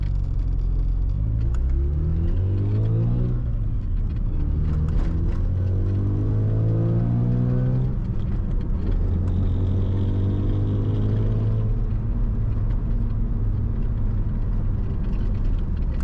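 A Mazda RX-7 FC rotary engine runs up close and loud, with repeated rising revs and a steady rumbling idle between them, and no voices.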